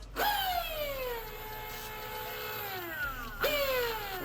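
Electric motor on a Razor supermoto build running at 82 volts, revved twice: each rev is a rising whine that slowly winds down in pitch, loud and close with clear tonal harmonics.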